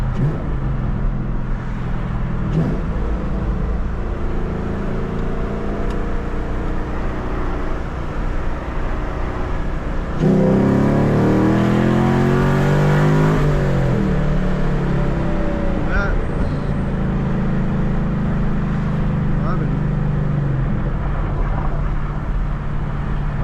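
Chevrolet Camaro accelerating hard, a loud close engine note rising steadily in pitch through the gears after a stretch of idle and lighter engine sound, with talk at times.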